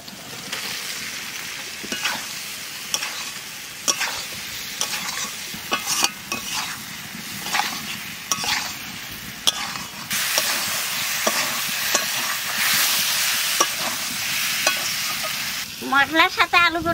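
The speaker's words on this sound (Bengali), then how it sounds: "মশলার সাথে আলু পটলটা একটু কষায় নিলাম" Potato and pointed gourd pieces are stir-fried with spice masala, a constant sizzle punctuated by repeated scraping clicks of a spatula against the pan, growing louder near the end.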